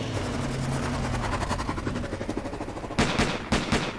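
Cartoon gunfire as cops shoot at the Mystery Machine: a loud, sustained rattling burst of rapid shots, then a few heavier separate bangs near the end.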